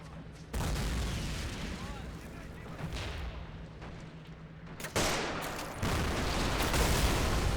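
A loud explosion in the RobZ Realism Mod battle for Berlin, with tanks amid heavy fighting, erupts as a dense, booming roar. A second blast hits about midway, and a constant wall of gunfire and rumble surrounds both.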